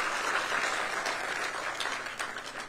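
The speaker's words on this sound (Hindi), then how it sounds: "तो एक बार ताली तो बजाइए आप लोगों को चैतन्य करने के लिए।" An audience claps at a Himalaya Day speech in Uttarakhand, giving continuous dense applause that holds steady throughout with no voices over it.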